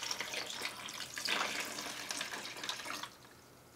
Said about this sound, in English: Oh, I guess you need quite a bit of water. So let's add some water.